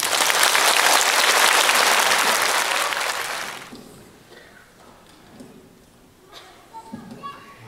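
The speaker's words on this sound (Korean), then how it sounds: "우리 이승용 선생 나오실 때 우리와 같은 박수를 쳐주시기 바랍니다" Loud audience applause fills a church-run informational meeting for about three and a half seconds, then cuts off abruptly, leaving a quiet room with faint scattered sounds.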